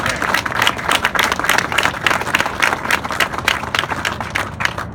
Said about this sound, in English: let's give ourselves an applause for being here at this very moment today.